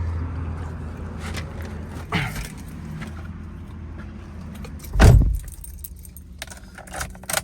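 Keys to a 2011 car with a 1.6 engine jangle in a few short metallic bursts, fairly close and quiet, with a louder clatter midway against a low background hum.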